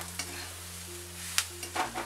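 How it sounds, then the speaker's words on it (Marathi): Roasted peanut powder is stirred into green chili thecha in a pan on a very low flame, producing a few soft scraping strokes and a quiet sizzle over a faint steady hum. "हे बघा आता हे चांगलं हलवून घेतलेलं आहे."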